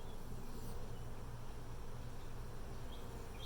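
Honey bees buzz steadily around an open hive as frames of comb are brushed off, a dense, continuous drone close by with no talking.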